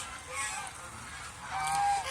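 Brief honking of Chinese geese at moderate distance, with a clearer drawn-out honk toward the end over faint background noise.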